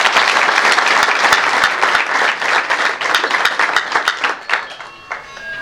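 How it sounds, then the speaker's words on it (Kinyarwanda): A crowd at Rwanda's 29th Kwibohora (Liberation Day) celebration bursts into loud, sustained clapping, which gradually thins out and fades near the end. "Mwiha amashyi rero."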